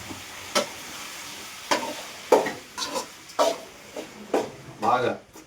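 Tomatoes being stirred into hot oil in a frying pan, with a spoon scraping and clattering against the pan in bursts over a soft sizzle, close by, with a voice talking at points.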